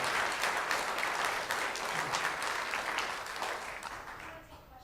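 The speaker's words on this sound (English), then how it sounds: "Let's give Quint and his staff another big round of applause." Audience applause in a conference or speaking event, a dense steady wash of many hands clapping at moderate distance, gradually fading toward the end.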